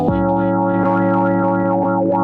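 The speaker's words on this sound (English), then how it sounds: "You get some big distortion there." An Elektron Model:Cycles synth runs through a Death By Audio Disturbance pedal and gives a loud, thick, sustained distorted tone. The pitch wavers and bends slightly with no break.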